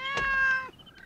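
A cat lets out a single loud, close meow used as a horror-movie jump scare, lasting under a second and trailing into quiet.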